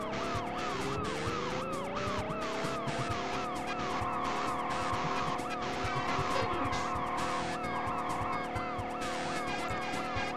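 In a racing video game, a police car siren wails continuously over a steady engine drone, its repeating sweeping tone persisting throughout the chase at a fairly quiet level with no talk.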